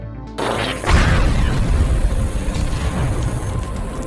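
A grenade explodes in an action film, a sudden loud blast that bursts out of near silence and rolls on as a heavy, rumbling roar with debris-like crackle.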